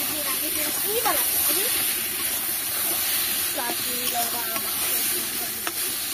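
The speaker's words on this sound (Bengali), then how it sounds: "বাঁধাকপিটা পুরো জল ছেঁকে এখন কড়াইতে দিয়ে দিলাম।" Drained cabbage hitting hot oil in a wok gives a steady, fairly quiet sizzle and hiss, with a few light stirring scrapes throughout.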